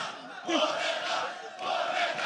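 A live audience cheers and whoops continuously with a dense, loud crowd roar, swelling briefly toward the end.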